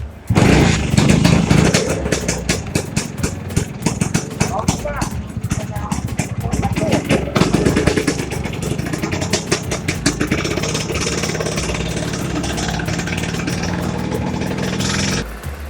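A vintage Vespa scooter fresh from the repair shop warms up, its small engine running loud and steady with a buzzing, rattling idle throughout while someone talks over it.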